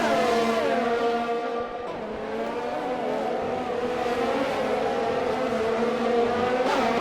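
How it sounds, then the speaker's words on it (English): Several race cars roar past on a street circuit in a Formula 1 racing video game at the Singapore Grand Prix, loud engine whines rising and falling in pitch as the pack streams by continuously. "Big pack of cars here"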